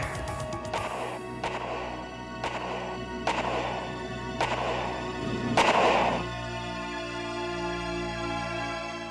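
Gunshots in a scene from a show, six sharp cracks spaced about a second apart over music, the last one loudest, then a sustained musical tone.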